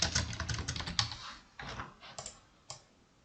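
Keys clatter on a computer keyboard in quick, quiet bursts, with a short pause and a few isolated taps near the end.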